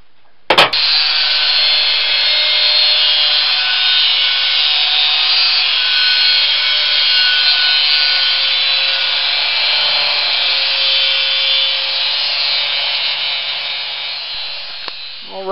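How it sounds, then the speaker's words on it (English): A steady, loud abrasive grinding rubs rust and paint off bare metal in preparation for welding, a continuous harsh scraping roar that runs unbroken for about fifteen seconds after a sharp start, with no talking. "clean all the rust and paint away from the area to be welded"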